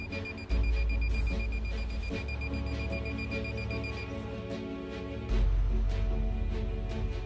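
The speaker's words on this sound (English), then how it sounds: "making an intermittent beep." A handheld water detector device gives a steady, intermittent electronic beep, repeating evenly over a low background hum with no talk.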